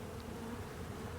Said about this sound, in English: these bees here are trying to get in through the vent holes in the mesh